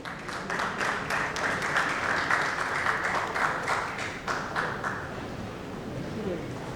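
An audience at an infrastructure summit in Mumbai claps for a presenter, a steady moderate round of applause with individual claps audible, fading a little near the end.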